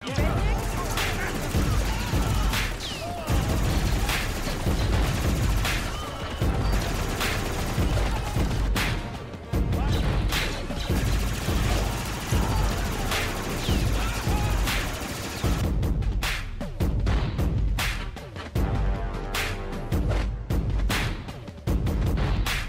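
A shielded heavy gatling gun fires in the video game Star Wars Outlaws, a dense, nonstop stream of rapid shots and impacts that stays loud throughout, layered with other busy game sounds.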